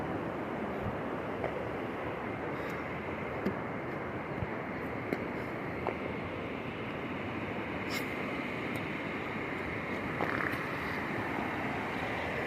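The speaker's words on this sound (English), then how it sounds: "Super duper waterfall, yo." Waterfall on the Enoree River, a steady broadband rush of falling water, close and continuous, with some wind buffeting the microphone.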